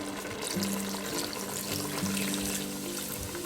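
Sprite soda pours into a pot of chicken with soy and oyster sauce in a Ninja Foodi pressure cooker, a steady close liquid rush with faint trickling over a low appliance hum.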